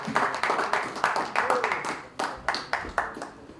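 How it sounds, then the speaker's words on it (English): An audience gives a short round of clapping, a rhythmic patter of hands close by, with a voice speaking over it. "big round of applause for Himanshu Devaskar"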